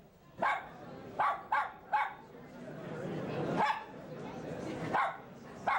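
A dog named Spike barks in short, sharp bursts, several singly and a couple close together, fairly near, with broadcast-studio chatter in the background.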